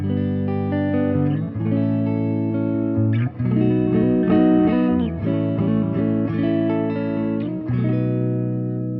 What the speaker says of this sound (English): we're just running clean, a little bit of gain from the amp, and some reverb from the amp as well